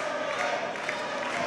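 A wrestling arena crowd near St. Cloud State University, home of the Huskies, cheers for hometown wrestler Corbin during his match with Cruz, giving a steady, continuous roar of voices with no single sharp peaks.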